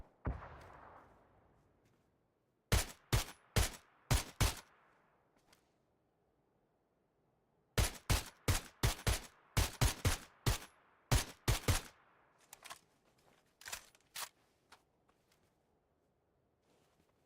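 PUBG gunfire on the Erangel map, sharp loud shots fired singly and in quick rhythmic volleys with silent gaps between bursts, close and punchy, followed by a few fainter distant shots.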